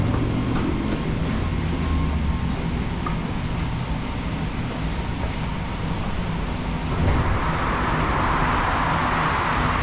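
A continuous rumbling train ride, with rattling and faint clacks over steady low noise that swells louder near the end.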